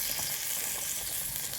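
Pieces of fried chital fish hit a pan of curry base and sizzle steadily, a dense, even crackle with no voices over it.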